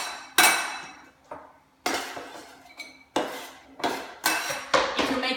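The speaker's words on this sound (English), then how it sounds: "just pull it into a pile and run your knife through it." A kitchen knife chops through apple on a cutting board in sharp, close, fairly loud knocks, with about seven strikes in quick bursts and brief pauses between.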